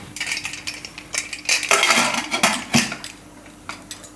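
A metal pressure cooker lid is fitted and closed in a home kitchen, with a series of close, sharp metallic clanks and scrapes that cluster in the middle.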